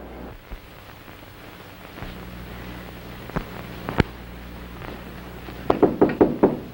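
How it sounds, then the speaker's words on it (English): Knuckles rap on an apartment door in a 1940 crime comedy, a few scattered knocks followed by a quick burst of five firm raps, near and clear against a low background hum. "I knocked on the door and you invited me in"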